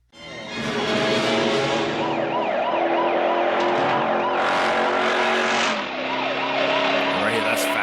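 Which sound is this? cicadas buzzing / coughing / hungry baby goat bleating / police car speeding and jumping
police car speeding and jumping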